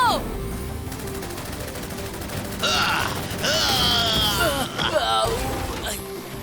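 A cartoon mecha turret fires in a loud, busy burst of overlapping shots and sweeping synthetic tones, with dense layered effects and a voice briefly underneath.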